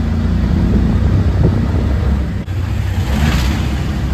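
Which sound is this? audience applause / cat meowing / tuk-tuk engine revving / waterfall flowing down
tuk-tuk engine revving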